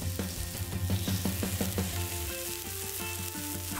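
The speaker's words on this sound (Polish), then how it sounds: "Jest odpowiednio gorąca, kiedy po dotknięciu słychać odgłos smażenia." Steady, loud sizzling of steak frying in a hot pan, a dense crackle with no voices over it.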